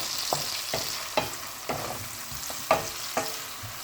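Garlic sautés with seasoning in a pan, giving a steady soft sizzle broken by about six regular scraping strokes of a spoon or spatula, close and fairly quiet, with no talking.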